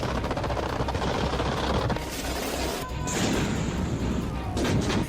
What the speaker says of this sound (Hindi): समुद्र के तट पर हैवी मशीन गन और तोप से लगातार फायरिंग प्रैक्टिस की जा रही है।